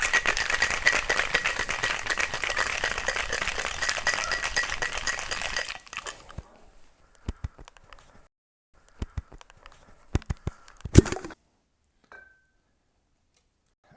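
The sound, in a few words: shaking a daiquiri cocktail with ice cubes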